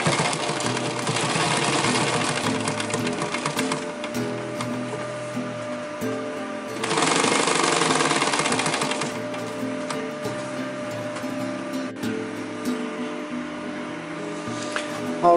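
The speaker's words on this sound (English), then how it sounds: "Align neatly pocket with the panel and give it a row of stitching." A sewing machine stitches a pocket onto the front panel of an EDC organizer, a steady mechanical whirr of rapid stitching that swells louder in the middle, then eases back into a continuous run.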